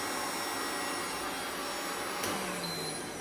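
A steady, loud whirring roar like a vacuum cleaner running continuously, with a brief rising whine near the end.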